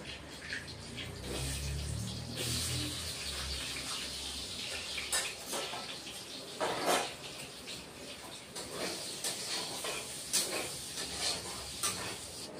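Potatoes frying in a pan of oil give a continuous soft sizzle and bubbling hiss, with occasional louder crackles and spoon scrapes.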